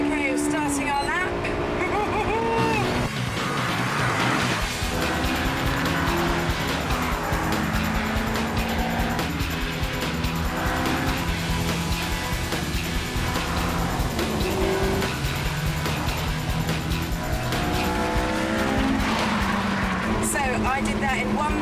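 A Honda S2000 on a fast lap of a race track, engine revving hard through repeated gear changes with rising and falling pitch and tire squeal, loud and continuous while someone speaks over it.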